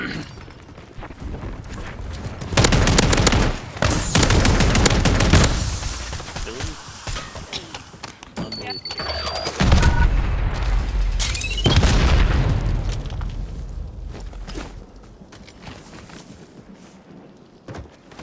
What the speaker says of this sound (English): Oh wow, a fucking shotgun.